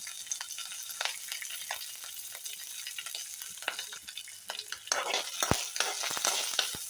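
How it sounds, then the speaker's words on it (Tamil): Hot oil crackles and spits continuously as mustard seeds splutter, with sharp pops and sputters growing denser toward the end, close and fairly loud with no talking. "இப்போ கடுகு வெடிச்சிருச்சு"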